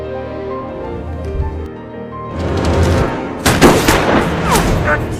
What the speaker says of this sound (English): the old man on the slope warned him, firing shots to draw him out